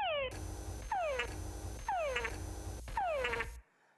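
Four frog mating calls from a Panamanian species, each a falling whine followed by a short burst of chucks, repeated at about one-second intervals, close and loud over a low background hum.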